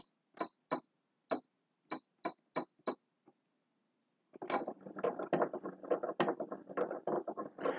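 Sewing machine stitching fabric: a few single clicks of the mechanism at first, then after a pause a steady rattling run of stitching, close and moderately loud.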